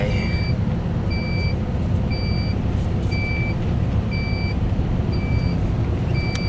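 A wheel loader works at a Napier grass loading yard. Its reversing alarm beeps steadily about once a second over a loud, continuous diesel engine rumble.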